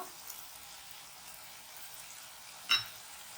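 Chicken pieces frying in a pan for chilli chicken give a faint, steady sizzle throughout, with one brief louder scrape or clink near the end.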